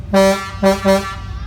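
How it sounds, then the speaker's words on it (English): Three loud blasts of a deep train horn, one long followed by two shorter ones, sounding close and resonant, heard while riding aboard at an antique society grounds in Leduc, Alberta. "Sounds like a train."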